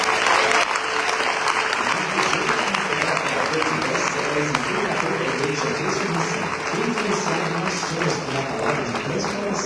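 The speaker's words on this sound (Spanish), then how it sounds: "Recibamos con un fuerte aplauso" A large congregation applauds the apostle Joseph Matera at a live church event in Brazil, with loud, dense, steady clapping filling the whole stretch, voices and cheers mixed in underneath.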